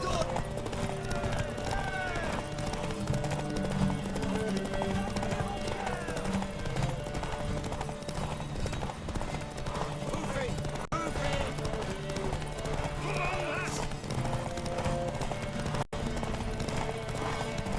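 Rapid hoofbeats of galloping horses in the video game The Witcher 3: Wild Hunt drum steadily throughout, with a horse's whinny, shouting voices and busy background music mixed in.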